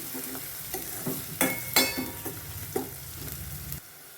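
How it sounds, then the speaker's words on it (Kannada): Green chillies, garlic and ginger stir-fried in a pan for an egg and paneer gravy: steady close sizzle broken by several sharp scraping strokes of a spatula, with no voices. "ಈಗ ಹಸಿಮೆಣ್ಸಿಗೆ ಇದ್ದೀನಿ ಬೆಳ್ಳುಳ್ಳಿ ಶುಂಠಿ ಎಲ್ಲ ಮಿಕ್ಸ್ ಮಾಡಿಕೊಡೋಣ ಚೆನ್ನಾಗಿ"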